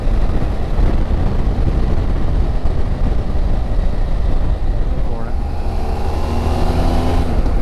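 BMW F800GS Adventure motorcycle engine pulling in fifth gear around 4,000 RPM while riding, a loud, steady drone mixed with wind roar, the pitch shifting slightly as revs change, with a voice talking over it.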